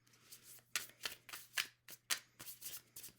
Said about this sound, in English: Just flipped around a bunch of cards in my hand.